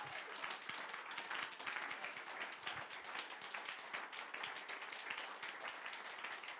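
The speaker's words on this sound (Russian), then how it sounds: "Дай Богу большие аплодисменты" A church congregation breaks into sustained applause, a dense steady patter of many hands clapping throughout, fairly loud and even with no talk over it.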